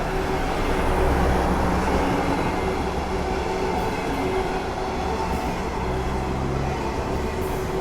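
A Mazowia double-deck passenger train passes through Warszawa Włochy station, a loud steady rumble of wheels and rail noise held throughout, with faint squeals.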